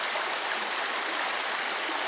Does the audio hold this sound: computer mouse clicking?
no